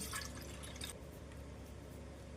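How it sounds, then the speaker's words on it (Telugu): A glass of water is poured into a bowl in a kitchen, giving a faint, brief splash and trickle that fades quickly into near silence. "ఇప్పుడు ఇలా ఒక గిన్నెని తీసుకుని దాంట్లో ఒక గ్లాస్ వాటర్ని యాడ్ చేసుకోండి"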